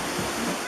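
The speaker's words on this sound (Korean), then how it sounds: "물소리를 듣기만 했는데도 온몸이 시원해지는 것 같네요" Waterfall water rushes down at Dangkuta falls in Nepal, a steady broad roar heard briefly and close.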